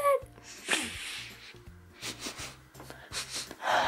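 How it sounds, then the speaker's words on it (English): Close sniffing and snorting at a squishy toy, a run of short nasal inhales with brief gaps, loud and near, over a faint rhythmic background hum. "I'm just gonna sniff into the camera."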